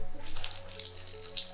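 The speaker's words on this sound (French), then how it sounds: "Oh, la pompe pour faire venir de l'eau." An old water pump in an abandoned castle sending out running water, a steady hissing splash with a low mechanical hum beneath it.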